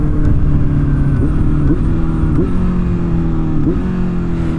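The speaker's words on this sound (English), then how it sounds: "I love grabbing downshifts on this bike" Loud, close motorcycle engine holding a steady drone, with several quick rev blips as it downshifts through the gears.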